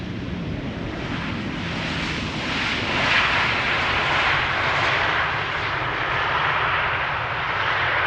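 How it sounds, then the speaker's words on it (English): KLM airplane landing at Schiphol Airport, a loud, steady jet engine roar that swells slightly midway, with wind buffeting the microphone throughout. "KLM style landing."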